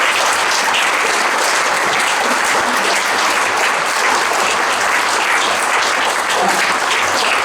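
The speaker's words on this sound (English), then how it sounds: "Round of applause at this time." Sustained audience applause fills a high school athletic hall of fame banquet, steady and dense from start to finish with no break.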